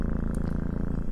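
A creature in the video game Children of Silentown purrs, a steady low rumbling throb heard alone and close for about a second.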